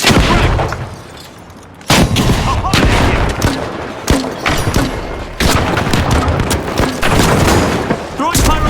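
A frag grenade explosion and gunfire in The Finals, a first-person shooter: loud, dense bursts of shots and booms nearly throughout, with sharp blasts near two, four and five-and-a-half seconds and continuous battle noise between.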